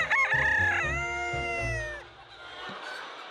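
Baekbong silkie chickens in a farmyard give a loud, close crow followed by clucking and squawking calls, fading into quiet background noise.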